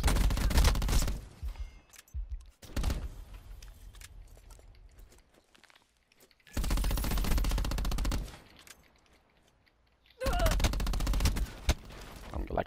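Rapid bursts of automatic gunfire in the Black Ops 4 shooter video game, loud close fusillades repeating in three separate volleys with quieter gaps of game noise between them.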